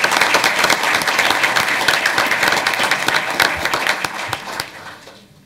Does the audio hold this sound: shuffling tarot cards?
no